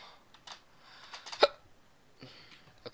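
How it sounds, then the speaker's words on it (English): A single sharp hiccup stands out, close and sudden, amid faint background clicks and quiet room noise. "okay, I'm sick of these hiccups."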